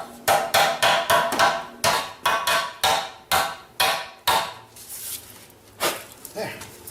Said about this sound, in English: you want to use a copper, a brass hammer